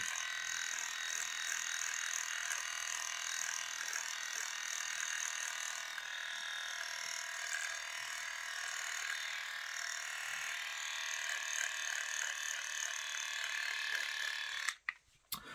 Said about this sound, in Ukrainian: Тример тут класний, до речі. Давайте ми попробуємо зараз.